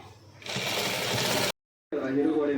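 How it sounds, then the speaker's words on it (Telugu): A sewing machine stitches a girl's frock in a loud whirring run, stops briefly, then starts again while someone talks over it. "అప్పుడు నేను ఫ్రాక్ కుట్టుకుందాం అనుకున్నాను"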